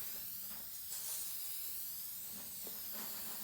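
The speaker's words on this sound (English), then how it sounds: "I'm just gonna spray a fine coat" An aerosol can sprays a fine coat of shellac over painted furniture, giving a steady, quiet hiss that runs for a few seconds with slight swells.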